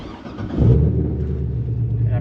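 Supercharged 6.2L LS3 V8 in a 2009 Chevrolet Corvette with 13,000 miles catches and settles into a deep, steady idle rumble right after a brief crank, with voices faintly underneath.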